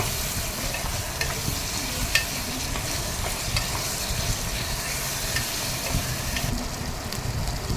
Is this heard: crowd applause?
no